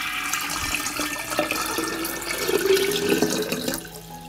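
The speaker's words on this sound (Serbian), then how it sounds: "U bokal ću sipati 1 litar mlake vode" One litre of lukewarm water pours into a jug as a steady, fairly faint stream of liquid that runs for several seconds and then tails off, with no talking.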